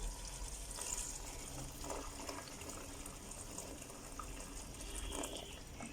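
Boiling water pours in a steady, continuous stream into a pot of goat curry with tomato, garlic and ginger, a soft gushing fill with no voices.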